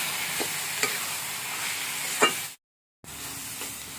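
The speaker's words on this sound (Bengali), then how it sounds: "এবার ভালো করে কষিয়ে নেব।" Chili-spiced shrimp paste sautéed and stirred in a pan gives a steady low sizzle, with a few sharp spatula scrapes against the metal, close and unaccompanied by talk, broken by a brief total dropout.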